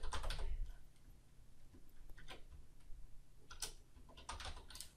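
Quick bursts of computer keyboard typing, clusters of close, crisp key clicks separated by short pauses, quiet and alone in a home studio setting.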